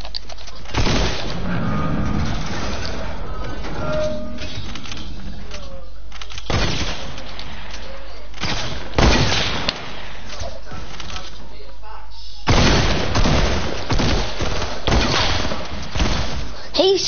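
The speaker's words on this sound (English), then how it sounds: "He's shooting us." Video game gunfire in bursts: loud volleys of shots and thumping booms break out repeatedly between stretches of quieter play, with people talking over the action.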